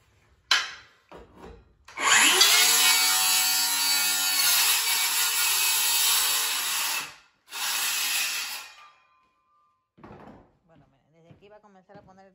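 Power saw cutting new floor boards during a home remodel, a loud sustained cut of several seconds followed by a second shorter cut, with brief talk nearby.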